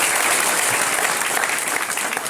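A crowd at a community development-works inauguration event in Sangamner claps together, a dense, loud and steady wash of applause that carries through the whole short stretch.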